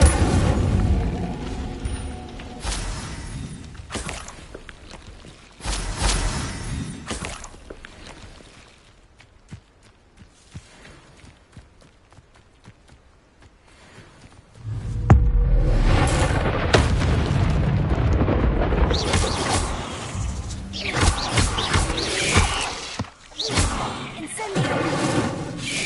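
A fire spell cast in Hogwarts Legacy, heavy booming bursts and rumbling fire blasts that come and go, with a long quieter stretch in the middle and a voice speaking over the action at times.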